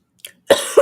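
A single person coughs at close range: a faint throat catch, then one harsh, forceful cough with a short second burst right after, in an otherwise silent room.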